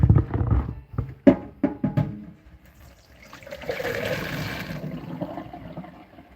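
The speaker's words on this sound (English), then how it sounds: "You can get some hot water running." Hot water runs into a kitchen sink while chili is being made. A few seconds of clattering and handling come first, then a steady, moderate rush of running water.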